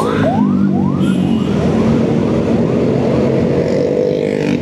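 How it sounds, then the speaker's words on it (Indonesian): A wailing ambulance siren sweeps up in repeated rising tones over steady, loud traffic rumble on a busy road at night in Indonesia, the ambulance close by. "Ambulans."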